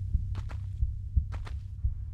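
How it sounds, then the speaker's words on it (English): In the Atlantis level of Tomb Raider 1, a low game heartbeat thumps in a slow, steady rhythm, paired dull beats over a faint hum, with occasional soft footstep-like taps layered above. "Now back here, it's a heartbeat."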